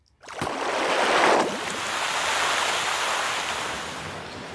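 Layered water-fountain, bubbling and ocean effects for a slow-motion milk-splash sequence: a sudden rushing splash builds into a loud frothy gush, then settles into a continuous wash of surf-like water noise with no talking.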